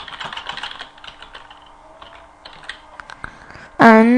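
Fingers type on a computer keyboard in quick bursts of close clicking that thin out into sparse taps, then a voice starts speaking at the end.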